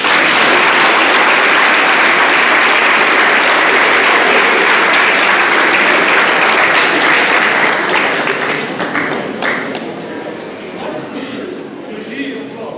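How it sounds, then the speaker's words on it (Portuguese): An audience applauds at a chemistry lecture on the candle. The clapping is loud, dense and sustained, then thins and fades toward the end as scattered claps trail off. "podem bater palmas se quiserem."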